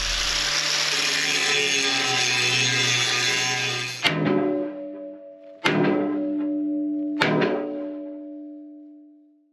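Hammer blows on a stiff metal part of a CAT 308E excavator: three sharp, loud strikes, each followed by a ringing metallic decay, after a stretch of harsh broadband noise.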